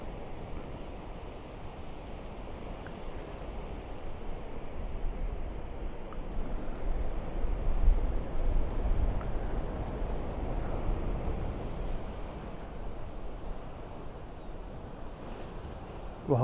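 Ocean waves wash steadily onto the rocky Dalkhout coast near Salalah, a continuous broad surf roar with gentle swells in loudness and some wind noise, with no voices.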